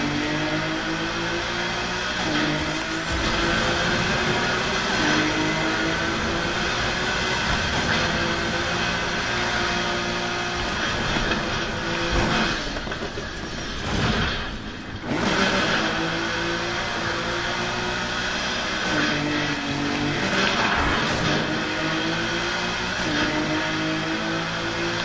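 A Mazda RX-7 in the racing game Need for Speed Heat howls through sustained high revs, its engine pitch climbing and dropping with gear changes, with a brief dip partway through.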